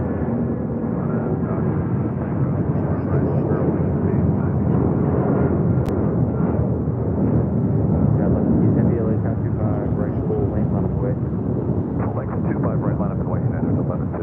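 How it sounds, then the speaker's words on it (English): A United Boeing 757 rolls down runway 25 right at LAX, its low rumbling engine roar running steadily beneath a voice talking over it. "we got that United 757 now rolling down at 25 right."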